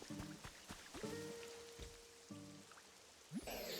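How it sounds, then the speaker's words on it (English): Rain falling in the Pokemon Pokopia video game, a soft steady patter heard alone beneath light musical notes, with a brief louder splash near the end. "I love the sound of falling rain."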